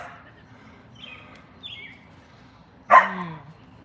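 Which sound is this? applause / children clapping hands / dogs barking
dogs barking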